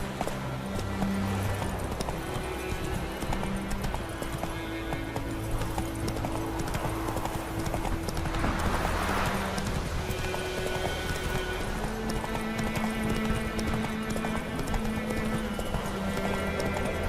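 In The Witcher 3, the horse Roach trots with steady rhythmic clip-clop hoofbeats close by, layered over a continuous game music and ambience bed that holds sustained tones.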